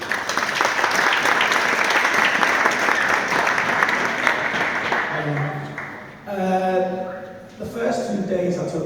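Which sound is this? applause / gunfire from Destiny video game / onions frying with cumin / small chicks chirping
applause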